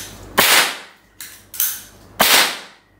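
An AP 50 air pistol fires, giving sharp close cracks, one loud shot followed by a few more snaps, each dying away quickly in a quiet setting.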